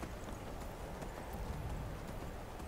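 Horse hooves clip-clop in a steady, continuous rhythm during a ride in the video game Skyrim, moderately loud and alone.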